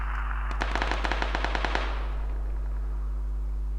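Automatic gunfire in the battle royale game PUBG: a rapid burst of about a dozen sharp shots in even rhythm, then silence over a steady electrical hum.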